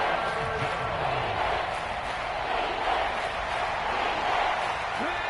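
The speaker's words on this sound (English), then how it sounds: "this crowd making it hard to hear" A dense, steady roar of stadium crowd noise from an American football video game on PS4 fills the whole stretch, with faint scattered shouts rising from the wash.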